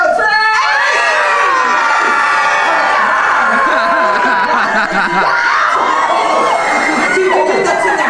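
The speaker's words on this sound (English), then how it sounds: "Scream along with her," A theme park horror-show audience screams together in a loud, sustained crowd roar of mixed shrieks and yells, with children's voices prominent, dense and continuous before easing slightly near the end.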